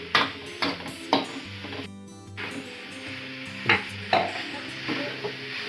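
Jambal salted fish with green chili being stirred in a pan, giving repeated scraping and clinking strokes of a utensil against metal over a soft sizzle, with no talking.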